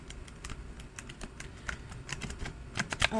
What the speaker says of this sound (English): shuffle tarot cards in this manner